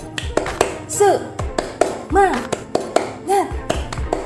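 Rhythmic group clapping in a spirited tepuk semangat clap chant at an Islamic lesson on prayer, sharp claps in uneven bursts with voices chanting between them.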